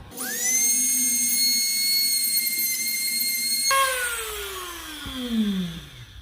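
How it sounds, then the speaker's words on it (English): High-pitched whine of a rotary tool cutting through a shell, steady for several seconds before it cuts off and a falling, descending whine trails as the bit spins down, loud and close. "We can cut that little part there."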